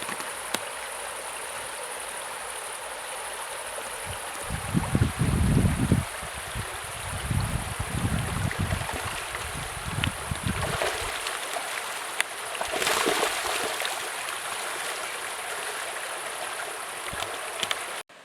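River water streams and gurgles steadily throughout, with louder splashy bursts in the middle.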